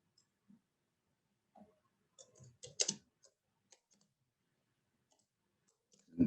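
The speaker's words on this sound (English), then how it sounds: "This is testing my typing skills." Sparse clicks of keys tapped on a computer keyboard, quiet and close, arriving in small irregular clusters separated by silence, with a louder burst near the end.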